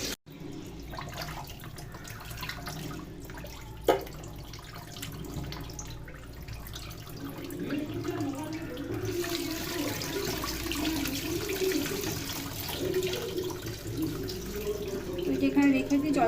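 Tap water runs into a sink while mutton is washed in a home kitchen, a steady splashing stream that grows louder and fuller partway through, with a voice speaking intermittently over it.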